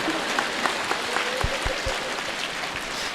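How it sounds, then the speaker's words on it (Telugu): Faint clapping from an audience at a spiritual meditation gathering, a diffuse patter of hands with a few low thumps, fairly distant and steady. "మహిళా ధ్యానమా చక్రానికి ఒకసారి గట్టిగా చప్పట్లు కొడదాం."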